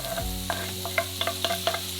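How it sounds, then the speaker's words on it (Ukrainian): Onion with hot and sweet peppers frying in a pan, a steady sizzle punctuated by several sharp clinks and scrapes of stirring, close and without talk. "Далі смажимо цибулю. Гострий та солодкий перець."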